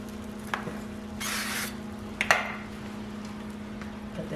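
Cooking spray hisses onto a pan in one short burst of about half a second, followed by light clinks and handling noises in a kitchen with a steady low hum.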